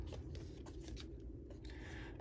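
Scissors snip through designer series paper for a handmade card in a quick run of several soft, close cuts.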